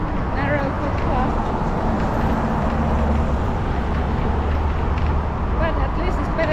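Heavy road traffic rolling past a narrow footpath on a back road, a loud continuous roar of cars and larger vehicles close by, steady throughout, with a voice talking over it.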